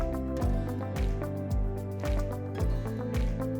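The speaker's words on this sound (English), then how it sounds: "To flush the wash tank, press and hold the drain button for 5 seconds." Water flushes through the wash tank of a Hobart PWn prep washer in a rhythmic pulsing pattern, roughly every half second, with steady mechanical hum and sloshing underneath.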